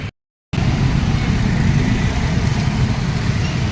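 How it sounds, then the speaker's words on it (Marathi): A large group of motorbikes, some forty to fifty riders heading from Nashik toward Igatpuri, rumbles in a steady, loud engine drone after a brief silence, with no talk over it. "हे निघालेले आहेत बाईक स्वार पुण्यावरून नाशिकला आलेले आहेत"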